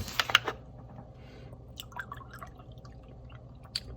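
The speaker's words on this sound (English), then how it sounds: "I'm gonna actually pour some milk." Milk being poured into a glass beside a bowl of spicy ramen, a few close liquid splashes and drips at the start, followed by quieter trickling and scattered small clicks.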